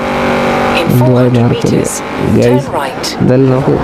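A Mahindra XUV's engine hums steadily while the car is driven, sitting low beneath near continuous talking from people inside.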